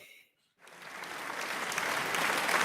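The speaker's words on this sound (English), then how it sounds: "So like all good live shows, we were clapping." Audience applause at a theatre awards show, a dense wash of clapping that starts after a brief silence and swells steadily louder, with no voices over it.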